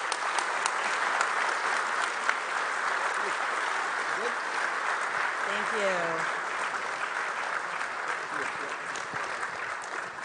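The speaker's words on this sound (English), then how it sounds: "Round of applause, please, for our candidates" Audience applause for gubernatorial candidates at a Rhode Island public expenditure council forum, steady and sustained clapping from a crowd filling the room for about ten seconds, with a brief spoken thank-you and a voice partway through.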